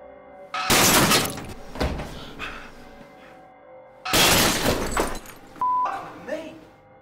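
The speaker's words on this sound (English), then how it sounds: "a fake woman's head crashes through the mirror, shattering it and leaving blood draining from her forehead" Mirror glass shatters with a loud crash as a fake woman's head bursts through it in a scary TV commercial prank. Two heavy smashing bursts come with voices talking in between.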